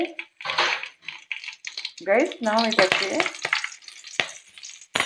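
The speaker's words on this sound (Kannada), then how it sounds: "ಇದು ಗರಂ ಮಸಾಲೆ ಎಲ್ಲ ಉಂಟಲ್ಲ ಇಷ್ಟು ಅದನ್ನು ಹಾಕುವ. ಅದು ಸರಿಯಾಗಿ ಬಿಸಿ ಆಗಲಿ." Whole garam masala and bay leaves sizzle and fry in a hot pan for pork powder, with a spoon stirring and scraping against the metal amid clinks; the sizzle runs continuously at close range.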